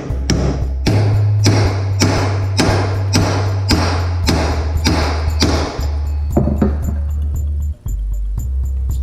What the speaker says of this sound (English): now these new studs need to be installed